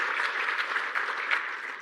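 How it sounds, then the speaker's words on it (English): Audience applause at a climate resilience symposium, a steady even wash of many hands clapping that carries on throughout without a break. "A round of applause for them,"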